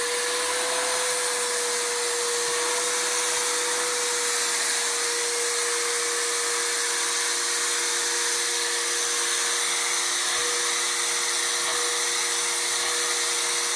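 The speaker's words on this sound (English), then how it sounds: "I just spray it in real quick and then pull the vacuum across them" A steady, loud motorized whine of a Bissell Spot Clean Pro Heat Pet portable carpet cleaner vacuuming a sofa runs continuously, with a constant tonal hum and broad hiss throughout.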